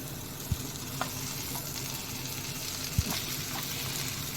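Goat brain pieces frying with onions in oil, a steady close sizzle broken by a couple of sharp spoon knocks against the pan.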